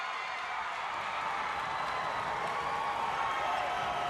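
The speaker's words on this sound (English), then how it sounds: "Listen to this crowd here. They're into it." Steady roar of a high school basketball crowd filling a gym, a dense, even wash of cheering and noise held throughout at moderate level, with a commentator talking over it.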